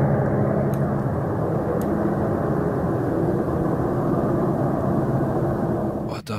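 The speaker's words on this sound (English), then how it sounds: "Is that a plane? Looks like a plane." A broad, steady engine roar drones throughout, like an airplane passing overhead, with a couple of faint clicks.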